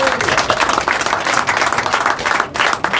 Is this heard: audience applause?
yes